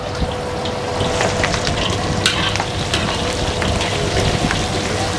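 A kilogram of onions sizzles and crackles steadily in a large amount of hot oil, loud and close, with continuous frying hiss and scattered pops and no talk.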